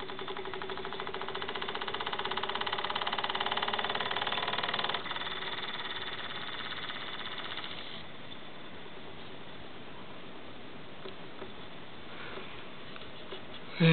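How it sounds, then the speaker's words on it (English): A small hit-and-miss solenoid engine runs steadily with a rapid, even mechanical chatter that changes character partway through and then settles into a quieter, sparser running rhythm, close by and without speech. "That's when the solenoid fires, and that's the hit and miss side of it."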